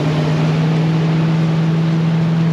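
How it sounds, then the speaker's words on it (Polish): A private motorboat passes close by on open water off Thailand, its steady engine drone loud and continuous with a constant low hum and wash noise, no talking. "Tutaj gościu ciśnie motorówką obok, a to prywatna motorówka jest."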